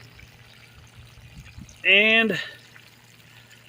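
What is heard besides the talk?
hose running water at full blast into a lifeboat hole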